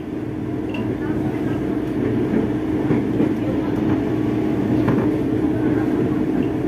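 An Indonesian commuter train rumbles and hums steadily at Tambun station, heard from inside the carriage with a continuous low drone and faint rattles, while a voice speaks over it.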